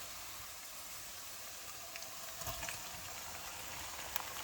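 Nigerian local rice sauce with dawa dawa simmers and fries in a pot, a faint steady hiss and sizzle with small scattered pops and bubbles.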